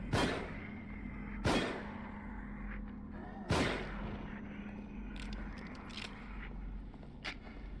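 Three loud, sharp gunshots ring out in The Evil Within video game, spaced a second or two apart, each with a short decaying tail over a low ambient hum, followed by faint clicks and clatter.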